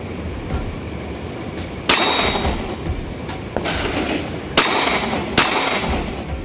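A Springfield XDM 5.25 handgun fires at steel targets, sharp loud shots ringing out with metallic clangs, about four distinct reports spaced irregularly over a background of outdoor noise.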